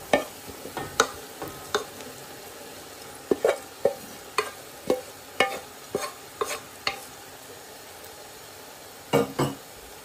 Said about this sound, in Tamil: வெங்காயம் ஓரளவுக்கு வதங்கிட்டு நாங்கள் இந்த டைமில் உடைச்சி வச்சிருக்கிற ஈரலையும் சேர்த்துக்க போகிறோம்